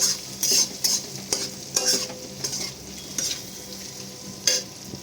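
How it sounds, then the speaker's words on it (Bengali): Spoon stirring turmeric into okra and potatoes frying with onion, giving repeated scraping strokes over a soft continuous sizzle, close by with no talking. "তারপর ভালো করে সবটা মিক্স করে নেবো"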